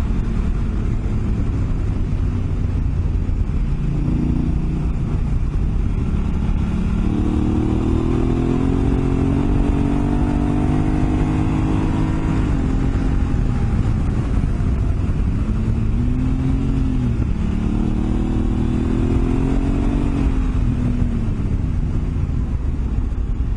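A motorcycle with switchable sports and full manual modes rides along while the rider downshifts. The engine drone runs close and steady, its pitch stepping and sliding with each gear change, and no one speaks.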